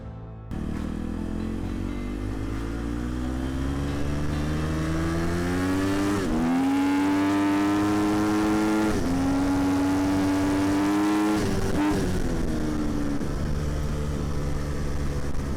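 A KTM 350 motorcycle in Barrow, Alaska, accelerates hard with a quickshifter, its engine note climbing steadily and dropping briefly at each fast gear change, loud and close for the whole run with no talk.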